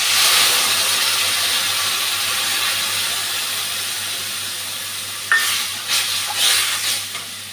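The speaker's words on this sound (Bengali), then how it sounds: "পেঁয়াজটা ভাজা হয়ে গেছে, এখন গুলে রাখা মশলাটা দিয়ে দিচ্ছি।" Spice paste is tipped into a pan of fried onions while cooking a prawn curry, giving a loud steady sizzle and hiss that slowly settles, then sharper spatters and stirring scrapes near the end.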